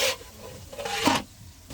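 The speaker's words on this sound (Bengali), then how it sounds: "দেওয়ার পরে এখানে নেড়ে চেড়ে নিচ্ছে।" A spoon scrapes and rubs through ground spices, garlic and chili paste in a cooking pot, a few soft close strokes over a short moment with no voices.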